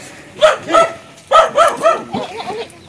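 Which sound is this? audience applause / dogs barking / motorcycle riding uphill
dogs barking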